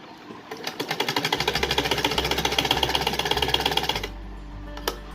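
A sewing machine stitching the folded hem edges of a small summer dress for a Laddu Gopal idol, a fast, even, close mechanical rattle running for about three seconds before it stops with a low hum.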